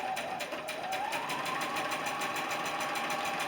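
A sewing machine runs steadily while stitching a quilt seam, its fast even needle rhythm close and continuous with a faint rising whine.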